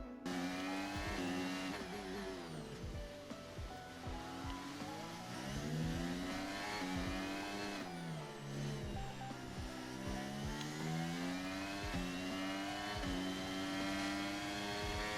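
Race cars battle side by side in a racing video game, several engines whining and shifting pitch together as they rev up and down, loud and sustained for the whole stretch with no talking.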